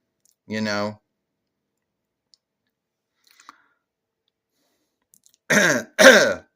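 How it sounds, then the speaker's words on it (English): A short throaty cough near 0.5 s, then quiet with faint clicks, and two harsh, louder cough bursts close together near the end. "Sorry for all that coughing"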